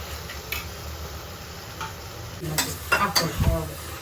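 Ground masala frying in oil, giving a steady soft sizzle with scattered stirring scrapes and clinks that grow busier toward the end.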